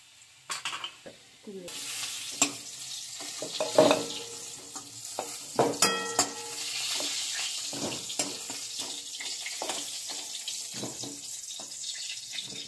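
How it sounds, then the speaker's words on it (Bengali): Fried potatoes are stirred and lifted out of hot oil. A soft, low sizzle runs underneath while sharp clinks and scrapes of the utensil come through at irregular moments, close by and without speech. "দেখুন আলুগুলো বেশ ভালোই ভাজা হয়ে গেছে। এবার আমি তুলে নেব।"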